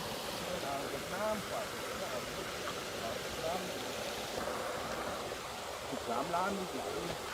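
Water pours over the overflow weir of a community reservoir that feeds a village's mountain water supply, a steady rushing roar with indistinct voices murmuring faintly underneath.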